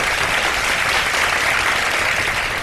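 Studio audience applauding Oscar-winning filmmaker Sharmeen Obaid-Chinoy on an iftar television show, a steady, dense wash of clapping that stays loud throughout without pause.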